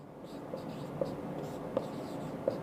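Chalk or marker strokes on a board during a maths lesson on straight lines, quiet and close, with a few small taps marking the writing over soft room tone.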